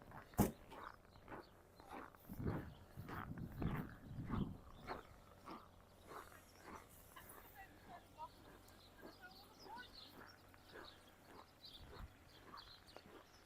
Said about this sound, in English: Sure sign of cold is that crunching sound of the snow underneath my feet.